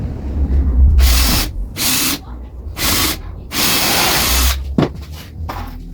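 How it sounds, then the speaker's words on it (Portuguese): A power drill bores a hole during installation of an overhead cabinet, whining loudly in several short bursts separated by brief pauses, close and alone. "Fiz o primeiro furo, vou verificar se vai dar certo."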